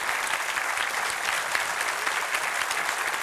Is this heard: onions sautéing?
no